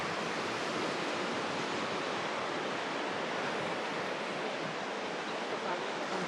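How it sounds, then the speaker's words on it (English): Choppy, lively sea waves wash in at Playa del Cura beach in Torrevieja on the Costa Blanca. They make a continuous, even rushing of surf with no break and no talk. "Very, very lively sea today."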